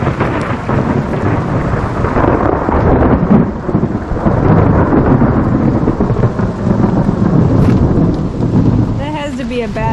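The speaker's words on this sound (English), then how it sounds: "So now it's going to start raining on us." Loud steady rain pours down with rumbling like thunder underneath, a dense continuous wash of noise close by.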